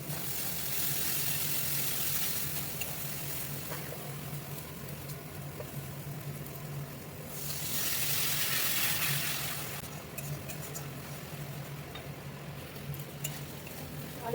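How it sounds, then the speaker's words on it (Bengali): Onion, chili and tomato masala cooking down in a pan, a soft steady sizzle with faint stirring scrapes throughout, swelling briefly louder partway through, quiet overall. "এবার আমি ভালো করে মশলাটা কষিয়ে নেবো।"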